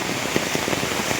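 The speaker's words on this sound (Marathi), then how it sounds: "आता पाऊस पडता" Rain falls on a farm field in the Konkan, a steady close hiss with scattered sharper drop patters across just over a second; no voices.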